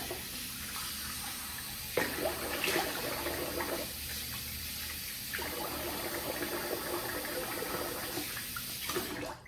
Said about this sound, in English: So I'm gonna rinse the face.